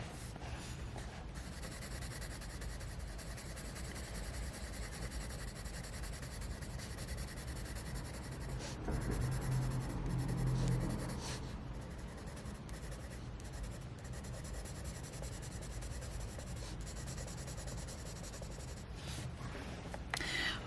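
Luminance coloured pencils rubbing on paper, a soft continuous scratching and shading sound, close and quiet, steady for about twenty seconds with a slightly louder stretch midway.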